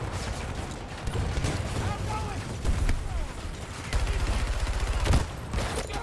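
Battlefield 2042 video game combat with grenade launcher fire, a mix of repeated thumping shots and explosions at moderate level, with clusters of rapid bursts and a distant battle din beneath.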